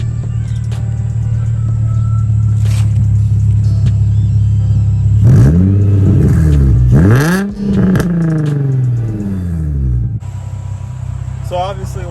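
Infiniti G35 with a VQ-series V6 revving hard, its loud droning idle climbing into several sharp rising-and-falling rev sweeps in the middle before settling back to a steady idle; no talking over it.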